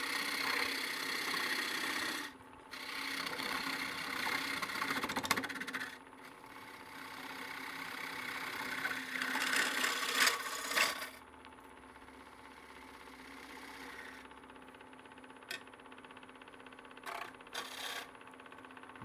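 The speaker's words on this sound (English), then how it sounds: "Just going to take this material away. You can do this with a scraper also, but I think it's a little more efficient to do this much with a gouge." A gouge shears wood from a partially dried bowl spinning on a lathe, giving a steady rasping, scraping cut close by for about eleven seconds, then easing into a quieter hum with a few brief scrapes and taps.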